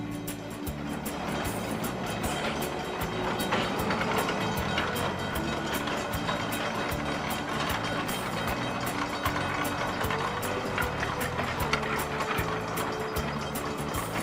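A California Western Railroad train at the redwood Willits depot gives a faint, steady mechanical clatter with rhythmic ratcheting clicks that carry on throughout, no talking.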